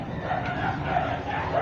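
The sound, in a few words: dogs barking and fighting outside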